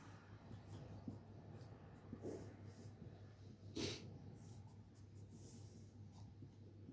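A pen drawing a circuit diagram on paper, faint scratchy strokes over a steady background hum, with one brief louder scrape partway through.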